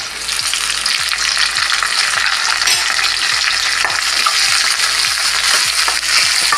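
Garlic and curry leaves sauté in hot oil in a pan, a loud, steady, dense sizzle with rapid scraping strokes of a spatula running throughout, close by and with no voices.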